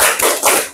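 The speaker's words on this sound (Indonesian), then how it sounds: "Tepuk semangat." A classroom doing a rhythmic tepuk semangat spirit clap, a loud burst of three quick, close claps in a short patterned sequence, with no talking.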